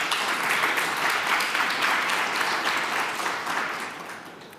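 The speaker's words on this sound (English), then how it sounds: "Let's give her a round of applause." An audience at an honors conference claps in a dense, loud, sustained round of applause that fades slightly toward the end.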